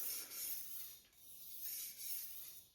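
Damascus Miyabi knife drawn across a Japanese waterstone in steady, close strokes, a soft hissing rasp that swells and fades in a slow back-and-forth rhythm.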